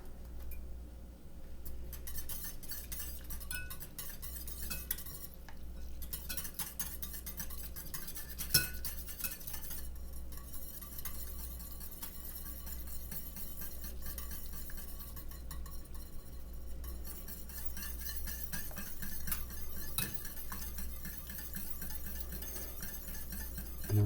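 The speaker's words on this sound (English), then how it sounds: "now, return this back to the heat. And we're going to whisk in the rice flour" A whisk works rice flour into kimchi paste in a pot, giving continuous soft metallic clinks and scraping strokes against the pot, close and steady throughout with no talking.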